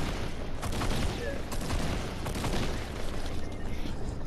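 Sustained gunfire from the battle royale game Fortnite, a dense continuous crackle of shots and booms throughout, with game noise filling the background.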